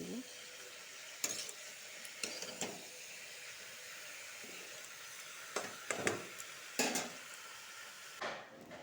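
Pumpkin and ginger simmering in a pot, stirred with irregular clanking and scraping strokes over a faint background sizzle, fairly quiet and close.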